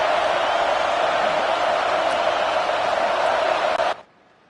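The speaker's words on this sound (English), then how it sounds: "Listen to this crowd just shaking the girders of this place," A football stadium crowd roars loudly and continuously at a playoff game, a dense wall of noise that cuts off abruptly near the end.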